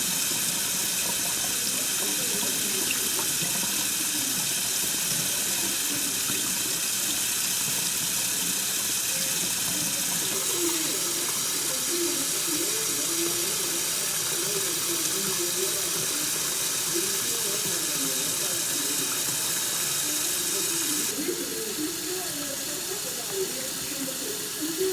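Water from a pot of boiled eggs pours steadily into a sink, a continuous rushing gush with splashing that runs the whole stretch, moderately loud and close, with no talk over it.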